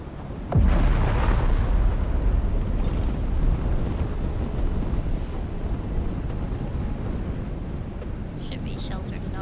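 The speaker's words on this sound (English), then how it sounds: "Sandstorm's going over." A sandstorm sweeps over in the desert of the game Dune Awakening, a loud, dense roar of rushing wind and buffeting that starts with a heavy thump and holds steady throughout.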